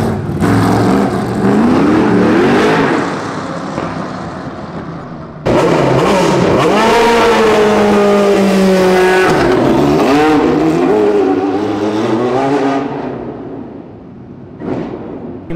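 Loud Formula 1 engines scream and rev as the cars do skids and donuts on city streets, tires squealing in long sweeping bursts, with a sharp cut into another roaring pass.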